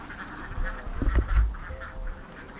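Ducks on a duck farm in Karuvatta give a short cluster of quacks and honks over a low outdoor rumble, loudest in the middle, with no talk.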